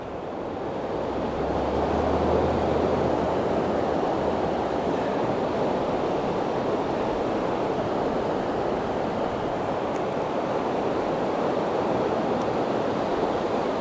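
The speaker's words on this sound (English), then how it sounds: "there you can see the waves now" Ocean waves breaking on a beach, a steady broad wash of surf with wind noise across the microphone, continuous and fairly loud, heard from above during a drone flight.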